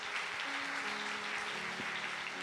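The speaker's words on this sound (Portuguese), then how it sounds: "Vamos aplaudir mais uma vez a vida deles." A church congregation claps steadily in dense, continuous applause, with some sustained instrument tones playing underneath.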